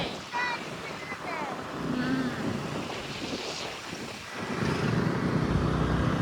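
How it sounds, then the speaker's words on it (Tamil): Rough sea with waves surging and wind buffeting the microphone near the shore, a broad churning roar that swells toward the end, with voices talking over it at moments. "கடல் பயங்கரமாக இருக்குது"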